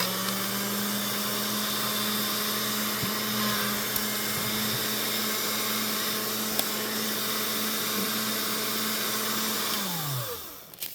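A motorized machine used for polymer clay work runs with a loud, steady drone and whine for about ten seconds, then winds down and stops near the end.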